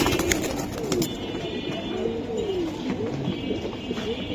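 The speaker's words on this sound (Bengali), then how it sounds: "একবারে ডিপগুলো চোখের ঝুমা কবুতর" Jhuma pigeons coo in soft, repeated rolling calls at close range, with a steady background hum and a few light knocks.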